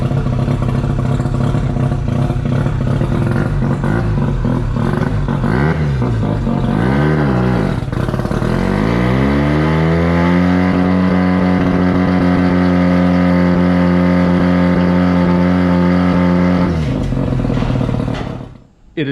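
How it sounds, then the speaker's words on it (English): Mazda RX-7 rotary engine running on dyno rollers, loud and continuous, climbing from a rough idle through wavering revs into a sustained high, steady pitch before cutting off abruptly at the end. "First thing we need to do is run it on the rollers to center the car up."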